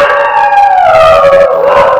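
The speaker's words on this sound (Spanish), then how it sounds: "En eso escuché a mi perro ladrar de nuevo." A dog's drawn-out, pained howling cry, loud and close, rising and slowly falling in pitch for about two seconds with no talk over it.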